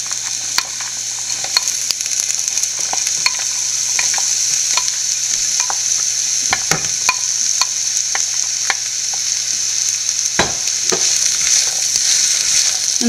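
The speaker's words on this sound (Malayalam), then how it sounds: "വഴറ്റിയെടുക്കാൻ നമുക്ക് ഇടയ്ക്കിടയ്ക്ക് ഇളക്കി കൊടുത്തുകൊണ്ടിരിക്കുക." Bitter gourd pieces fry with salted coconut slivers in an oiled pan. A loud, continuous hiss is punctuated by frequent clicks and knocks of a spatula stirring, close by, with no talking.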